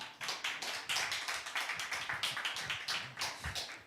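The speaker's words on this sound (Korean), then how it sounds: "소개할 때 뜨거운 박수로 환영해 주시기 바랍니다" An audience at a church evangelism seminar applauds to welcome a speaker, a quick run of close claps with a rapid, slightly uneven rhythm, fairly faint overall and without talk.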